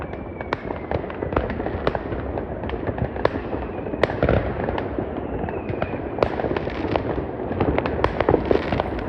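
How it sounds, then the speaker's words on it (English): A steady barrage of New Year fireworks over Wiesbaden cracking and popping, with frequent sharp bangs near and far and a continuous crackling rumble throughout. "So, let me show you the firework"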